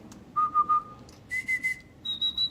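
A person whistles three short pulsed bursts, each rising in pitch, mimicking cricket chirps in a clean, close, rhythmic pattern.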